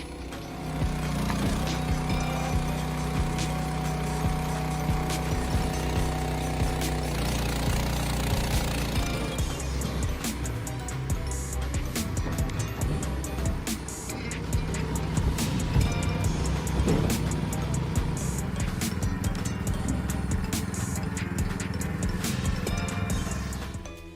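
A homemade TW5 HDTWC12 firewood processor with a 4.9 horsepower Honda engine and 24-way wedge runs loud and close, its steady engine drone layered with continuous rattling and knocking impacts for the full length, with no voices.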